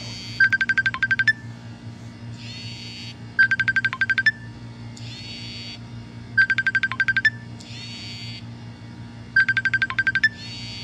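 A phone ringtone for an incoming call plays four identical bursts of bright electronic melody, evenly spaced about three seconds apart, over a quiet low background hum.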